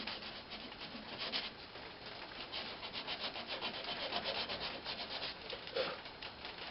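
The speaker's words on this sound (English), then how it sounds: "All I'm going to do is just sand it." Sandpaper rubbing steadily against a spinning natural-edged oak bowl on a lathe, a continuous close scratchy hiss that swells and fades slightly, heard alone.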